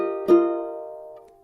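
A single ukulele chord from the One Piece opening is strummed once, close and clear, and rings out for about a second before fading, with no voice.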